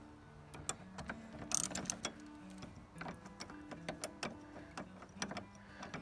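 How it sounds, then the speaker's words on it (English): Mechanical clicks, ratcheting and metallic taps ring out as bolts are removed from hinged folding motorcycle foot pegs, an irregular close-up series of short sounds over a low hum. "I'm going to have to take all 4 of these bolts out."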